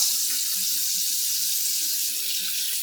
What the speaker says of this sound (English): First thing you want to do is turn your water on.